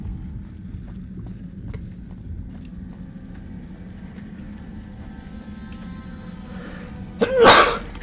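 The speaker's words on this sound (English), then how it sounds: "Bless you." A single sharp sneeze bursts out near the end, close and loud, after several seconds of quiet wind and low rumbling background.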